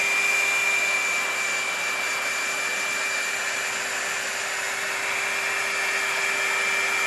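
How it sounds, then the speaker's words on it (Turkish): A hair dryer blows steadily and loudly throughout, drying a glued napkin on a recycled silver tray craft piece, with a constant whirring hum and no speech. "Yine ben saç kurutma makinesi yardımıyla"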